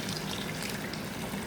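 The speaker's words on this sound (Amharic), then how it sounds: "ይሄው አሁን የፈላ ውሃ አምጥቻለሁ" Boiling water being poured into a pot of chicken mejbus with spices, a soft steady splashing stream of liquid, close and alone.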